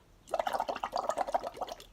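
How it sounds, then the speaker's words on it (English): Rapid bubbling gurgle of air blown through a straw into water, a steady burbling stream lasting under two seconds, close and fairly loud. "Yay, bubbles."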